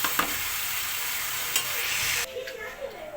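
Cabbage frying in a pan while being stirred: steady loud sizzle with a few scraping stir strokes, dropping quieter near the end, no talk.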